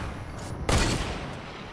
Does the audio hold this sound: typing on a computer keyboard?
no